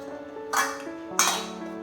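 Two sharp metallic clinks as a lid is set onto a steel container holding papad dough in a home kitchen, each a bright ringing clank that fades away, spaced about half a second apart.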